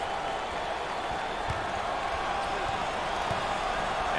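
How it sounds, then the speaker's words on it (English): Basketball home fans at an NCAA tournament game roar in a dense, steady wall of crowd noise, loud and continuous throughout with scattered faint thuds beneath. "Out there, the home fans are going crazy."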